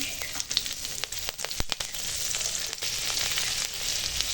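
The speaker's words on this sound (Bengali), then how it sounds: "এবার পাঁচ ফোড়ন দিলাম আর চেরা কাঁচা লঙ্কা দিয়ে দিলাম" Panch phoron and slit green chillies hit hot oil in a pan of lightly fried potatoes, giving a loud, steady sizzle crackling with sharp spattering pops throughout.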